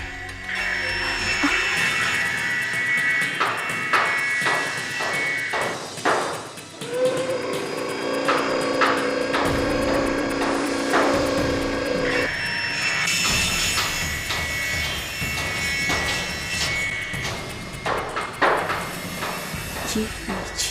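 Drilling somewhere in the background of a house comes as a faint, intermittent mechanical whine and rattle, with dramatic music and people talking over it.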